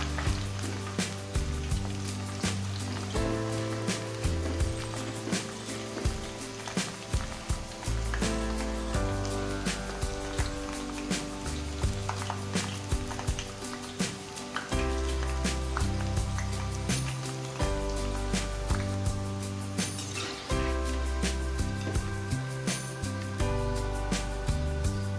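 Tikha gathiya, a spicy chickpea-flour snack, fry in hot oil with a continuous crackling sizzle, steady and close throughout, while music plays underneath.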